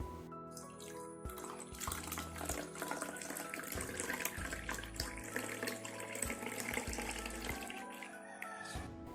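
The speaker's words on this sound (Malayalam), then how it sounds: "ഈ ഒരു ഗ്ലാസ്സിൽ നിറയെ പാല് ഞാൻ ഒഴിച്ചു കൊടുക്കുകയാണ്" Milk is poured into a glass while making tea, a continuous quiet splashing stream of liquid that runs the whole time, with faint steady tones underneath and no talking.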